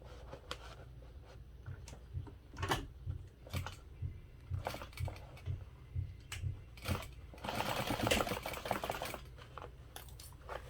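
A sewing machine stitches a half-inch seam along the stabilizer on the side panel of a barrel bag's drop-in lining, running in short close bursts with pauses and one longer, busier run.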